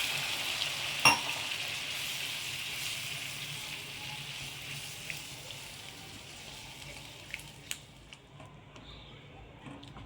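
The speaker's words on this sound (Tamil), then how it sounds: "நம்ம ஊற்றின தண்ணியெலாம் நல்லா கொதிக்குது" A pan of water bubbles and sizzles steadily up close at a boil, a continuous hissing simmer with a few small clicks and knocks.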